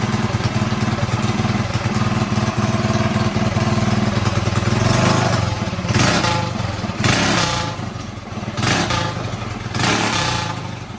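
A two-stroke Predator engine on a minitrike with a faulty transmission runs loud and close, a raspy steady drone with a few rising revs and surges near the end.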